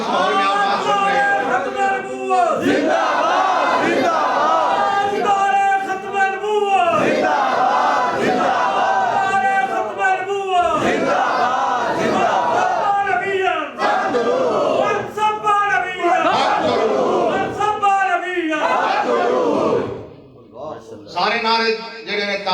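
A large religious gathering of Sunni devotees chants slogans in loud, rhythmic unison, each call answered by a roaring crowd response, with a voice leading over the crowd.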